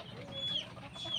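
Chickens clucking on a small backyard poultry farm, faint and distant, a soft continuous murmur of hens with a couple of brief higher calls over low background noise.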